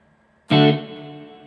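One electric guitar chord struck hard through the Helix Native plugin's reverb, with a washy reverb tail, ringing out and sustaining after the attack, played alone.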